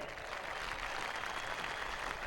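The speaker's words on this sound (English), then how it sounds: "Come on, race fans, warm round of applause for our third place man." Race fans at a World of Outlaws sprint car night at Parramatta City Raceway applaud the third place driver, a dense, steady wash of clapping from a crowd that holds loud throughout.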